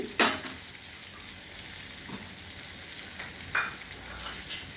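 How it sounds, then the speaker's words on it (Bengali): Pointed gourd stir-frying in a pan, a steady faint sizzle with a few scraping stirs of the spatula against the pan. "পটল তো ভাজাই ছিল, একটুখানি কষিয়ে নিলাম।"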